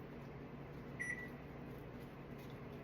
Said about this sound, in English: you could melt a little butter in the microwave